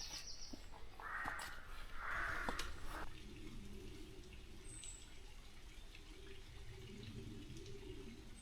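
A faint, steady trickle of water flows in a stream on a countryside walk in Derbyshire, a quiet continuous wash with a few brief bird chirps and no talking.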